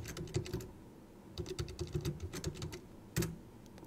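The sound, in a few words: typing on computer keyboard during Linux install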